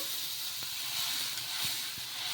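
Leftover-rice dosa batter hisses on a hot pan in a steady, bright sizzle, with soft scraping taps from a ladle spreading it.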